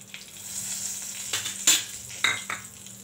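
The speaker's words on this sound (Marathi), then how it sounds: "हे बघा, आता ह्याच्यात हिंग आणि हळद घेतलेलं आहे, ते घालून घेऊया." Asafoetida and turmeric sizzling in hot oil in a pan, a soft continuous frying hiss punctuated by a few sharp clinks of a spoon against the pan.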